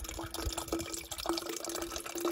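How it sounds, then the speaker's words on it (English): Water dripping into a tank in the Arizona desert: a series of small, irregular drips and splashes, close and fairly faint, over a soft background hiss. "There's not a more beautiful sound anywhere in the desert than water dripping into a tank."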